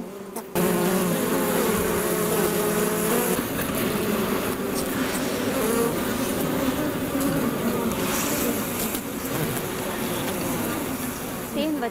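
Honeybees swarm and buzz around wooden beehive boxes at an outdoor apiary, a dense, steady drone of many insects close by that fills the whole stretch, with someone speaking over it.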